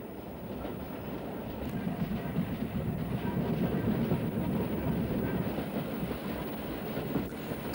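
A train climbs a 1-in-56 incline through a cutting on the Cheddar Valley branch line, with a steady, loud rumble and rhythmic clickety-clack of wheels on rail that swells and then eases slightly.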